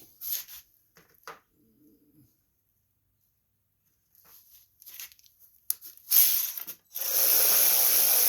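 A hand ratchet clicks in short bursts and then runs in a long steady rasp as it tightens bolts on the starter of a 2002 Craftsman riding lawn mower, close by and fairly loud after a quiet stretch.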